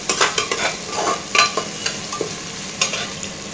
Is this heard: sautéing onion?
yes